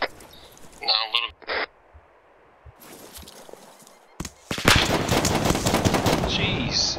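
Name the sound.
gunfire from a big gun in video game ARMA 3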